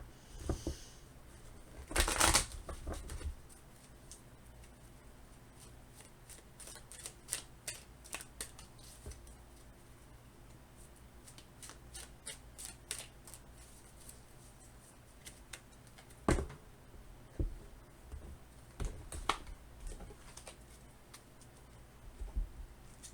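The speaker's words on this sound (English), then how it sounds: "I'm actually gonna shuffle the remaining cards for pile 1 and see what we've got." Tarot cards shuffled in a quick riffling burst near the start, then soft taps and shuffling handling noises scattered through a quiet room, with another brief riffle later.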